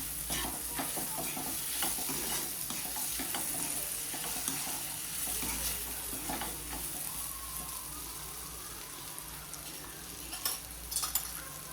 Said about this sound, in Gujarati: સારી રીતે મિક્સ કરી લઈશું ટામેટાને પણ